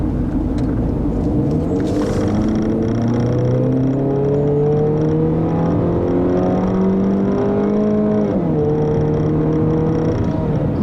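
A 2014 Jeep Cherokee Sport with a 2.4-liter four-cylinder and automatic gearbox accelerates hard from inside the cabin, its engine drone climbing steadily in pitch, dipping briefly at a gear change, then rising again, loud and continuous without speech.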